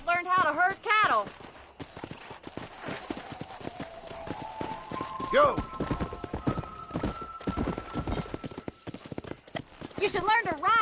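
Hoofbeats of a horse being ridden in the Red Dead Redemption game, with quick rhythmic clip-clop running through the whole stretch, under speaking voices, a shouted command and musical tones.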